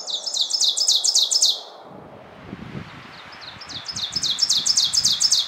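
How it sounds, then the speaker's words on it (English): An ovenbird warbler sings its loud, ringing two-note phrases in quick repeated bursts, then stops, then starts again after a stretch of soft rustling in the woods. "their impressively loud, almost hypnotic ringing chant of teacher,"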